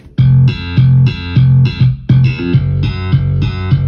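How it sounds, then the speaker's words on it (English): Slap bass guitar tone from a two-bass music production, playing punchy, percussive repeated notes in a steady rhythm with bright attacks, loud and close, alone without talk. "So the first one has a slap bass tone."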